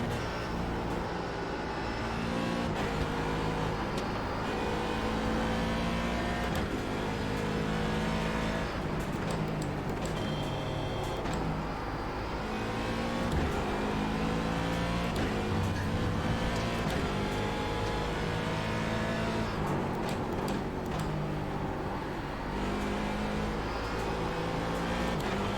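Race car engine in an IMSA racing simulator game, a loud continuous drone that rises and falls with revving and gear shifts, with no pauses throughout.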